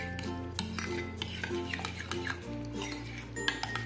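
Chicken marinade with chaat masala being stirred in a bowl, a spoon scraping and clinking against the sides in a quiet, steady rhythm, with no voices.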